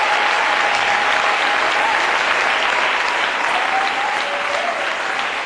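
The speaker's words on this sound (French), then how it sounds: "We can give an offering of clapping to our God." A church convention congregation claps as an offering to God, loud, dense applause filling the room evenly from start to finish, with a faint tonal hum beneath and no speech over it.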